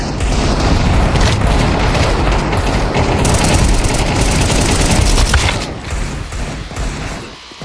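Grenade blast and heavy gunfire in Counter-Strike 2, loud and dense booming with rapid shots continuing for several seconds before tapering off.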